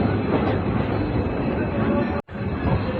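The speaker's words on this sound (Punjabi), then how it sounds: "ਸਹੀ 10 ਵਜੇ ਜਿਹੜੀ ਟ੍ਰੇਨ ਆ ਉਹ ਅਬੋਹਰ ਪਹੁੰਚ ਚੁੱਕੀ ਹੈ" A loud, continuous rumble of a train arriving at a station fills the clip, steady and close, with one brief dropout near the end.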